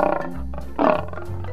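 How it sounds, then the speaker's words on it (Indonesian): A lion roars once in a short, loud burst among other wild animal sounds, with no talking. "Wah, ini singa."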